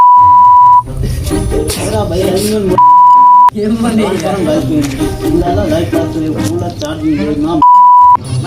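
Loud single-pitch beeps sound three times, at the start, middle and end, each about a second long, with loud talk filling the gaps between them.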